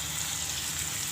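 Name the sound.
whole spices sizzling in hot oil for matar pulao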